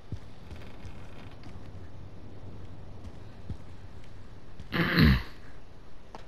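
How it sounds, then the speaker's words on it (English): A single short cough bursts out near the five-second mark over steady low background noise, with faint thumps scattered before it. "I hear coughing behind you."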